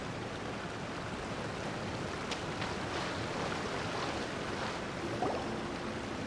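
A waterfall in the game Genshin Impact gives a steady, dense rush of falling water, a constant broadband roar with no talking over it.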